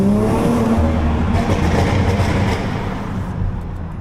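A BMW X7 with a B58 engine, Stage 2 tune and aftermarket downpipe, revving hard with a deep, throaty rumble and rising growl, loud and close, easing off slightly toward the end.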